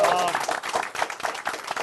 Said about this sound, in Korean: 오늘 가장 큰 박수가 많이 나오네요